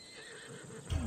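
A horse in the video game Assassin's Creed Odyssey lets out a short, loud neigh that starts abruptly near the end, after a stretch of quiet ambient game sound.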